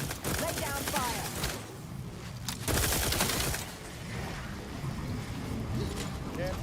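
Gunfire from a firefight in The Outer Worlds 2, a dense sustained burst of shots mixed with combat noise, with voices talking over it.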